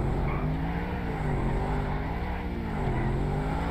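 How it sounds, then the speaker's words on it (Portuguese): Engine of a very fast car in the video game GTA V, a steady loud drone with shifting harmonic pitch as it speeds along, running continuously through the whole stretch without talk. "Esse aqui, se eu ficar acelerando muito rápido nele, eu não consigo controlar esse carro não, mano. Porque ele é muito rápido."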